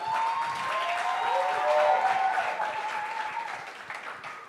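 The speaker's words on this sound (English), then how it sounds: "Please, let's give them a round of applause." A live audience at the Open Source Community Africa 2022 conference applauds its community managers with a sustained, dense round of clapping lasting several seconds, swelling slightly in the middle and then tapering off.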